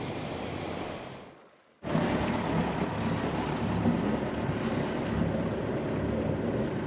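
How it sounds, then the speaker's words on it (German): A sailing yacht under way off Tahiti, moving from one marina to another along the reef edge: steady wind and water rush with wave wash around the hull, dropping out briefly before resuming continuously and loud. "Wir verholen die Sy-Limelight von der Marina Papeete zur Marina Arue."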